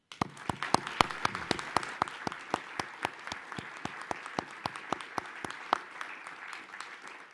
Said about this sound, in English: I'd like to acknowledge her book with a round of applause.